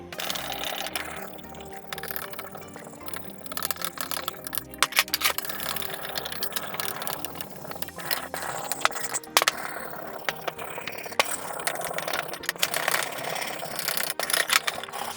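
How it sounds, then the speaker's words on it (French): Wire brush scrubbing derusted saw parts cleaned by electrolysis: steady scratchy rasping strokes with irregular metallic clinks and jangles, fairly close and continuous with no speech. "On va frotter un petit peu avec la brosse métallique histoire d'enlever les derniers résidus"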